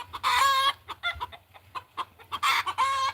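Farm chickens and a rooster make loud, close clucks and squawks in irregular bursts, with longer calls at the start and end and short clucks between, and no talking.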